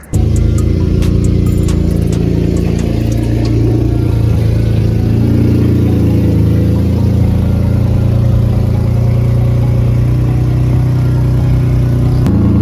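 A Honda J35 V6 idles steadily while warming up after a fuel injector replacement, a loud, continuous low hum with a faint whir and no voices over it.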